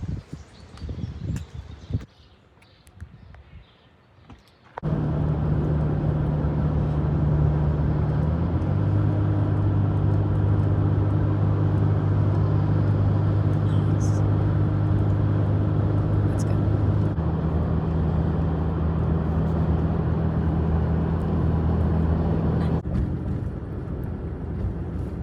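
A vehicle towing a camper drives on the road with a loud, steady engine and road roar, and the engine note shifts as it accelerates under load after a quieter start.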